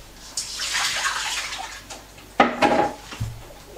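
Water used to rinse tellinas clams is poured out of a bowl, a steady splashing pour followed by a few clinks and sloshes as the bowl is handled.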